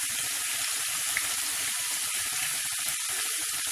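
Pumpkin curry (kumra) frying in a pan, a steady close hiss of sizzling oil that runs unbroken from start to finish, with no voices.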